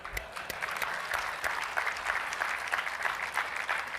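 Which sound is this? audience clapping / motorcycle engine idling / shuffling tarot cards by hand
audience clapping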